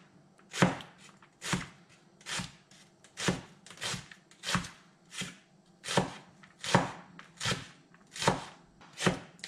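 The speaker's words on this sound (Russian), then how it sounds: "теперь тоненько-тоненько мне нужно ее нарезать полукольцами тонкими" A knife slices rapidly through onion into thin half-rings on a board, about a dozen crisp, evenly spaced cuts close up, with no talking.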